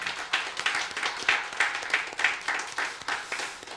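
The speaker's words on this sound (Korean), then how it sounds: "자, 우리 예배 영상 음향 수고하신 분들 우리 박수로 격려합니다." A church congregation applauds at a New Year's Eve worship service, a steady patter of clapping that stays moderately loud throughout.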